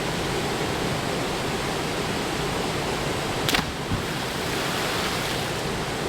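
A waterfall rushes with a steady, dense roar of falling water that fills the whole stretch evenly, broken only by a brief sharp click about halfway through.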